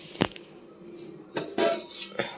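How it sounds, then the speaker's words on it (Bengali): Dishes and utensils clink in a kitchen while a tiffin box is packed, a few sharp, close knocks and taps separated by quiet pauses. "টিফিন প্যাক করব"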